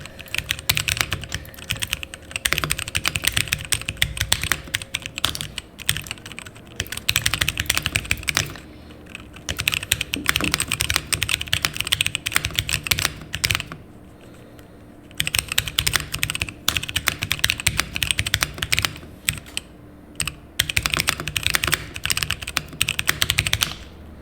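Typing on a mechanical keyboard with subtle tactile switches during a Portico keyboard build, with steady close-up key clacks arriving in long continuous bursts separated by short pauses, and no talking.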